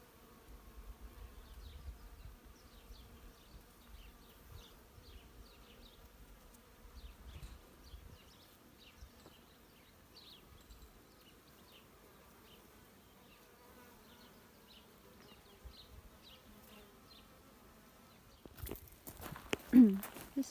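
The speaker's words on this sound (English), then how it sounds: "full of bees. I'll be quiet now so you can just listen to that lovely sound." A flowering tree alive with bees gives off a steady, soft insect hum that carries for about eighteen seconds with no one talking, then a brief burst of louder handling or rustling noise at the end.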